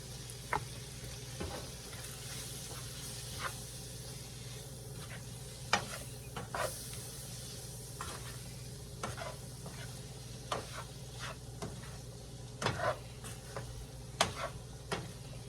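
A flour-and-fat roux for a pot pie cooks in a pot, holding a soft, steady sizzle while repeated scraping stirs come through at an uneven rhythm, close and fairly quiet.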